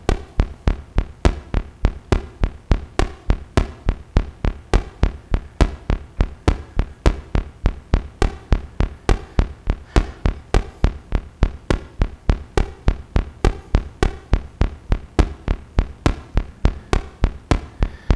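A Serge modular synth rhythm from Elby Designs CGS36 pulse divider and logic outputs, sharp percussive clicks and thumps in an irregular repeating pattern with mixed spacing between hits, loud and alone throughout.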